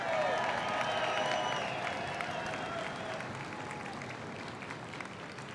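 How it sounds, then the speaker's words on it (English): A crowd claps and cheers at a livestock show and rodeo junior market steer auction, a broad wash of applause that gradually fades, with a voice speaking over it at the start. "While we're clapping, can you guys please get really loud"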